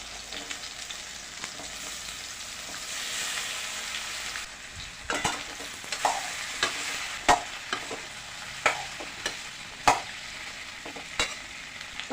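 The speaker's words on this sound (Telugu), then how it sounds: "ఇప్పుడు బీరకాయ, టమాటా వేసేద్దాం." Ridge gourd and tomato frying in a pan with chillies: a steady sizzle at first, then a run of spoon scrapes and stirring knocks at an uneven rhythm, close and clear with no talking.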